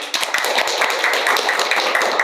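A small group claps briefly during a university civil engineering promotional talk, with crisp, close, fairly loud hand claps in a quick uneven burst that lasts about two seconds.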